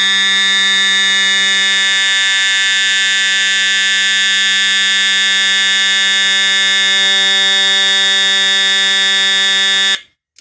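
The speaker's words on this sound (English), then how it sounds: "If I flip the switch up, it will re-alarm." A fire alarm panel horn re-alarms on a test workbench, sounding a loud, steady, continuous tone for about ten seconds before cutting off abruptly, with no talking.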